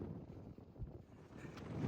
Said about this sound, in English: It has gotten windy and pretty chilly